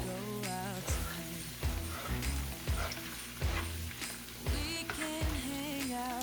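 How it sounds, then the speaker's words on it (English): Tomato paste cooks in a pot for yam porridge, a soft sizzle broken by regular stirring knocks, fairly quiet beneath continuous background music. "So I'm just going to stir it and allow it to cook."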